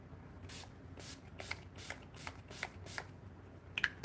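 Short bursts of makeup setting spray hiss out one after another, several quick close-up sprays spaced through a quiet room with no talking.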